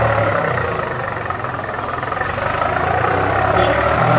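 A nearly new 2017 model 4x4 tractor with a Carraro gearbox and only 19 hours of running sits idling nearby, giving a steady, even low engine drone with a faint rhythmic throb and no talking.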